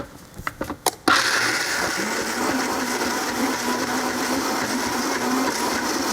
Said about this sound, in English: that's it in the blender, just those 3 ingredients, and now I'm going to blend